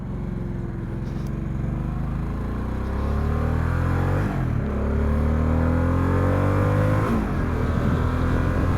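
A motorcycle accelerating up to highway speed, heard from a helmet-mounted mic: engine pitch climbs through several gear shifts under heavy steady wind rush, loud and close.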